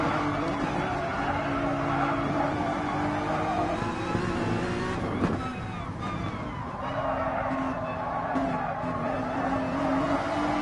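Race cars in a race, engines droning continuously at close range with tyres squealing and passing cars swelling and fading, all under an ongoing commentator's voice.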